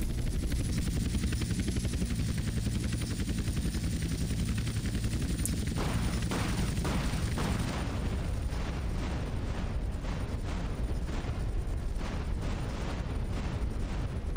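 A helicopter's rotor drones steadily throughout in GTA San Andreas Definitive Edition, joined midway by a series of dull booms and blasts.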